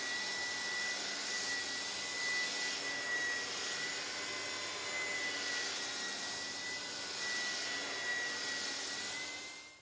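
A power sander fitted with abrasive wheels drones steadily across a walnut table top, a faint, even whirring hum with no pauses.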